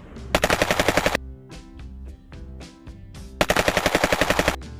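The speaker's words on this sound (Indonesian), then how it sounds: "lihat teman-teman ada tembakan AK-47" Bursts of rapid electronic toy AK-47 gunfire, two long rattling volleys separated by a quieter stretch of beeping tones, loud and close.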